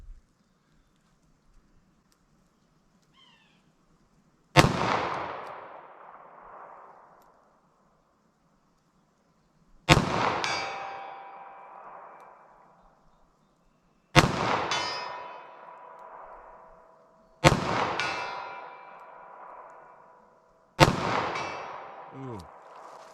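A .38 Special snub-nose revolver fires five loud, sharp shots spaced several seconds apart outdoors, each crack followed by a long ringing decay, with faint talk in the quiet stretches between.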